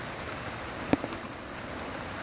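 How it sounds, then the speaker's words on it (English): Rain falls steadily outdoors at the Hermitage in Nashville, Tennessee, a soft, even hiss with one brief sharp knock partway through. "Wow, it's coming down heavier."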